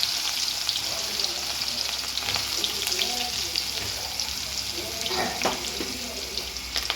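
Chilies, onion and curry leaves fry in a pan with mustard seeds, giving a steady, close sizzle that crackles continuously with occasional sharper pops and stirring clatter.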